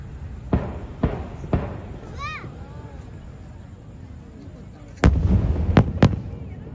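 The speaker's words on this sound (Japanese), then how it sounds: "今日は高知市納涼花火大会の模様をお伝えしております。" Fireworks at the Kochi City summer fireworks festival by the Kagami River pop in a few spaced booms, then a louder burst of several sharp cracks, heard from a distance with a faint whistling rise between.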